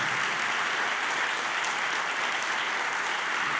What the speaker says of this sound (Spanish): Si le va a aplaudir, apláudale fuerte al Rey.